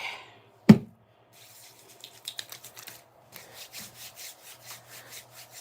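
Hot spearmint-scented cream rubbed onto skin by hand, a soft run of short rhythmic rubbing strokes following a single sharp knock, close and fairly quiet.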